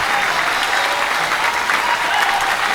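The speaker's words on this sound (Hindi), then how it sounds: "ये तालियां बता रही हैं आप कितना देर छोड़ दिया रो" An audience applauds loudly at a Hindi poetry recital, a dense, sustained wash of many clapping hands that stays level throughout, with no speech on top.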